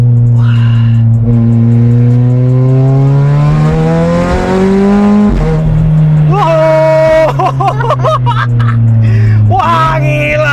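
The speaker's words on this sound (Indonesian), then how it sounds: "itu setengah gas, Zo. Setengah gas" A VW Scirocco R with all-wheel drive and a tuned engine accelerates at half throttle, its engine rising steadily and loudly in pitch through the gears. Excited voices exclaim over the engine.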